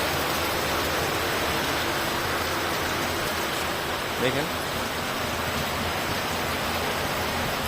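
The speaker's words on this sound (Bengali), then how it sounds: "তো দেখেন কী পরিমাণ বৃষ্টি হচ্ছে" Heavy rain pours down as a dense, steady hiss that stays loud and even throughout, with one faint brief sound partway through and no speech.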